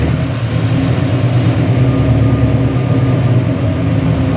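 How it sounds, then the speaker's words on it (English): A 1968 Ford Mustang's 347 cubic inch stroker V8, 302-based with Fitech EFI, runs steadily at idle, a loud continuous low rumble with no talk over it. "Fire it up, Matt."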